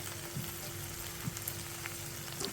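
Dill greens (shepu bhaji) sizzling in a pan, steady soft frying crackle with a low hum underneath and faint occasional clinks, no talking.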